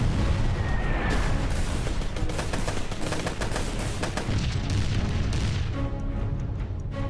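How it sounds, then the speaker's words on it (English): A massive artillery bombardment from the Battle of the Somme in the First World War rolls on without pause, with dense overlapping booms, blasts and rattling gunfire. It stays loud and continuous throughout. "Allied commanders launched the most powerful preliminary bombardment of the war."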